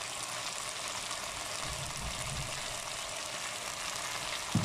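Bell peppers frying in a pan for chicken shawarma, a steady, even sizzle that stays loud and continuous throughout, with a brief clatter near the end.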